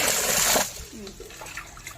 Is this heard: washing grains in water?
yes